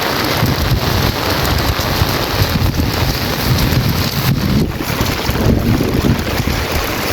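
Heavy rain pouring down steadily, a loud, dense hiss with wind buffeting the microphone, constant and unbroken throughout.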